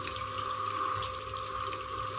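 Vegetable cooking water is poured into sambar, a steady close splashing gush that runs unbroken throughout.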